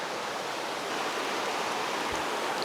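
A river stream flowing at a mountain camp makes a steady, broadband rushing and hissing wash of water, close and constant throughout with no voices.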